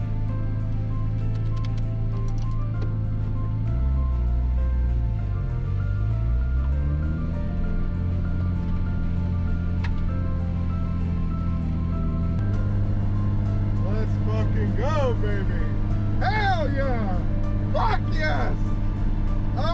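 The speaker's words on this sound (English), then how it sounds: "I am driving the car that I just fucking built." An R32 Skyline with a freshly rebuilt engine drives along, its engine tone rising and falling as the revs change through gears, with a voice talking over the drone.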